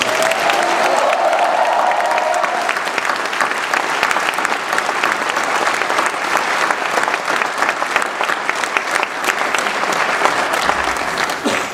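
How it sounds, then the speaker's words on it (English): A large crowd at an Army platoon graduation at Fort Leonard Wood gives sustained, loud applause for the new lieutenants, dense continuous clapping with faint cheering mixed in. "Please join me in a round of applause for America's finest lieutenants."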